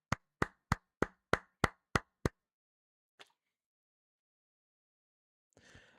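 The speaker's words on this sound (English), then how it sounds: "please just clap for this man" Eight sharp, close hand claps in a quick, steady rhythm, then a lone faint tap and a brief rustle near the end.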